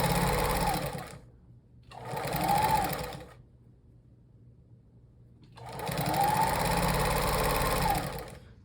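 A sewing machine fitted with a walking foot runs through a quilt in two bursts of fast, steady stitching, close and clear, separated by quiet pauses.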